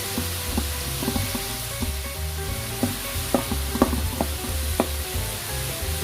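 Shrimp sizzle steadily in a hot pan with a touch of salt while being cooked for a mung bean and spinach stew, with soft scraping stirs and small pops and clicks of the utensil throughout.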